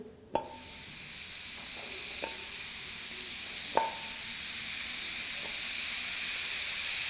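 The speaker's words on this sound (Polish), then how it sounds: "i będziemy je teraz smażyć" Steady loud sizzle of chopped beef steaks frying in a hot pan, broad hiss throughout with a few sharp clinks of utensils against the pan.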